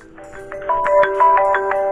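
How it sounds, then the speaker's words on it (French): A phone rings for an unknown caller in the Talking Angela video game, giving a loud, close electronic ringtone of quick repeated melodic beeps with no talking. "il y a un numéro inconnu qui m'appelle"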